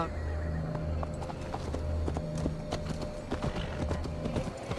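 Horse hooves clip-clop in a steady walking rhythm through a Gloucestershire forest in Assassin's Creed Valhalla, close and moderately loud over low ambient game sound, with a brief soft whinny-like note.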